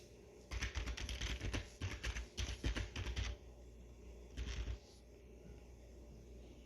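Quick bursts of typing on a computer keyboard, clattering keystrokes in short runs with pauses, close by, then a quieter stretch at the end.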